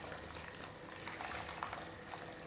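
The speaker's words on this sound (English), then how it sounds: "now you could pour it directly into the sieve" Liquid pours steadily into a sieve in a kitchen, a soft continuous splashing and trickling that stays faint and even throughout, with no voices.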